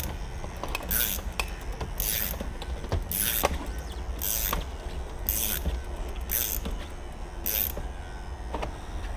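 An Equalizer Raptor cut-out tool pumped to slice the urethane on a 2002 Porsche Boxster windshield, giving about eight evenly spaced ratcheting clicks over a steady mechanical background, close up.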